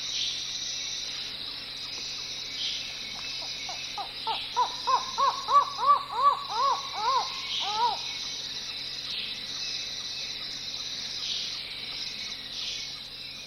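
A Belize jungle at night carries a steady, high insect drone, with a burst of about a dozen harsh, rhythmic croaking calls rising and fading in the middle before the drone continues alone.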